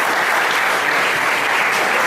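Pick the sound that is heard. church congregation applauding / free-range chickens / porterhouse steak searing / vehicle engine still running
church congregation applauding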